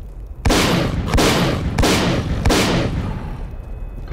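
A shotgun fires four times in S.T.A.L.K.E.R. Clear Sky, loud booming blasts at a steady rhythm about two-thirds of a second apart, each with a short decaying tail, close and alone.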